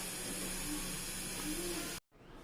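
Steam hisses steadily from a pressure cooker of mutton soup on a stove, a constant broadband rush that cuts off abruptly near the end, leaving quiet room tone.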